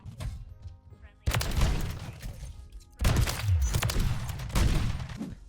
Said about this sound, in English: I just want to let that clip play out with sound because I like the way the Kimbo Mark II sounds